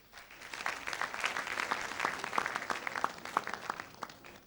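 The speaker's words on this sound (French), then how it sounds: "Je vais vous demander de les applaudir." An audience at a televised quarter-final quiz contest applauds the four candidates, with steady, dense clapping from many hands filling the room, moderately loud and fairly even throughout.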